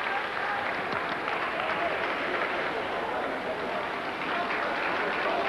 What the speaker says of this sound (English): the crowd there, right behind him, gives him all the applause he deserves